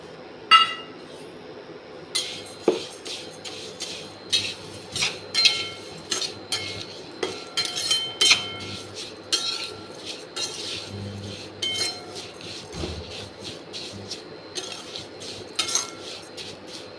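A utensil stirs vermicelli roasting in oil in a pan, making repeated clinking metal taps against the pan at an irregular rhythm, close and clear over a faint background, with no talk.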